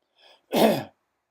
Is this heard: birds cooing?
no